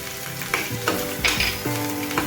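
Spices tipped into an oily gravy of fresh green chickpeas, hissing and sizzling steadily up close, with a few clinks and scrapes of a spoon stirring the pan, no voices.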